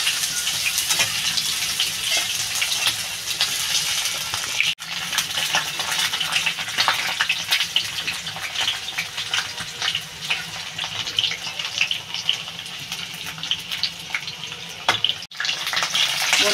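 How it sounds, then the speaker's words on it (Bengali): Kohlrabi pieces frying in hot oil in a home Bengali kitchen, a steady dense sizzle and crackle that runs without a break, with two very short dips. "তেলটা গরম হয়ে গেছে, ওলকপিগুলো ভেজে নেব।"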